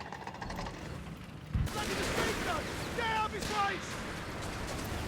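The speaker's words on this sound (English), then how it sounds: "God damn these machine guns from Jibber" Machine gun bursts in a real-time strategy video game, quick rattling volleys over a busy battle backdrop while a commentator talks throughout.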